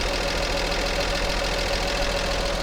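A car engine runs steadily at idle, a constant close rumble with a faint knocking texture and no voices.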